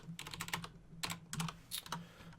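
Clattering keystrokes on a computer keyboard in quick bursts separated by short pauses, close and fairly quiet, with no talk over them.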